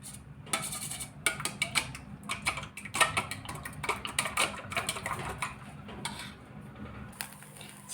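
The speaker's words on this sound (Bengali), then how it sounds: "ডিমের ভিতরে একটু লবণ দেব। ভালো করে ফেটিয়ে নেব।" Eggs with salt being beaten in a bowl, rapid irregular clicking and tapping strokes of a utensil against the bowl, close and fairly loud, with no talk.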